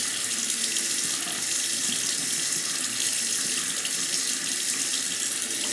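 Tap water runs steadily and fairly loudly onto a Shapton sharpening stone while a blade is honed, a continuous splashing flow with no voices.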